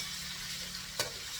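Tomatoes sizzle in a pan with sautéed onions while cooking pork binagoongan, a steady close frying hiss with one brief sharper crackle midway.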